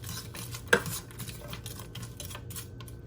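Food being stirred in a skillet over a raised flame, for a steak and egg breakfast with peppers: soft scraping with one sharp utensil clink near the start, fairly quiet and without speech.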